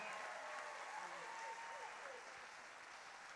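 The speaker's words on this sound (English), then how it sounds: "Let's give Mary a big round of applause." An audience aboard the Carnival Breeze cruise ship applauds, a faint, even wash of clapping that continues steadily and fades slightly toward the end, with faint voices mixed in.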